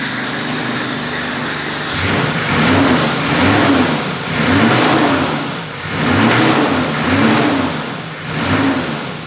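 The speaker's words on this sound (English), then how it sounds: "you just can't beat the sound of a 6-cylinder diesel" A Nissan Patrol with a TD42 six-cylinder diesel engine runs close by, its grumbling idle repeatedly swelling into rhythmic revs and settling back, with no voices over it.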